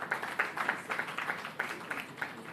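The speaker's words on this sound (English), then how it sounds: "let's give them a final round of applause." Scattered applause from a conference audience at a hybrid sustainability event, light and uneven claps with a few louder hands standing out over a thin, fairly quiet room.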